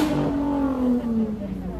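Car with a loud exhaust revving amid a street protest crowd: a single engine note drawn out and sliding slowly downward over a couple of seconds, with a droning roar under a noisy outdoor background.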